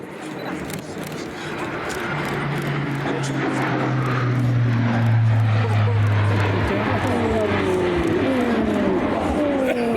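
An A400M Atlas military transport aircraft takes off at Istres air base during an air show, its propeller engines building into a loud, steady drone with rising whine tones while a commentator speaks over a public address.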